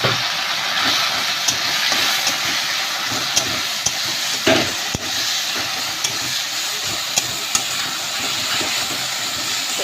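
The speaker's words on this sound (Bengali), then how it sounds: "এবার আমি শাকটা দিয়ে দিলাম।" Jute leaves dropped into hot oil with browned garlic fry in a pan, giving a loud, steady hiss and sizzle across the whole stretch, with a few faint clicks and no voices.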